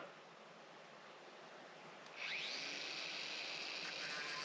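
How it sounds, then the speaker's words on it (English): A small angle grinder whines steadily, then rises in pitch and bites into the metal head of a coach screw with a harsher, brighter cutting tone, close and continuous. "run the head off the coach screw here with the little angle grinder"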